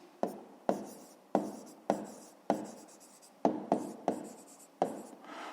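A pen writes on paper for a math exercise, producing about nine crisp, separate strokes at an irregular pace. The strokes are close and fairly quiet, with no talking.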